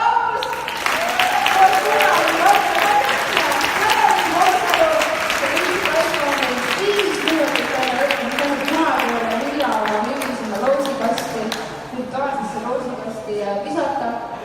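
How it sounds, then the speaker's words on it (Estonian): Audience applause at a skills festival event, dense clapping sustained for many seconds with a voice speaking over it, fairly loud and close, tapering slightly toward the end. "suur aplaus!"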